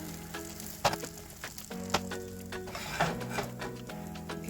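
Oatmeal pancakes sizzle and fry steadily in an oiled pan, a close, continuous crackle with a few sharper pops and clinks scattered throughout.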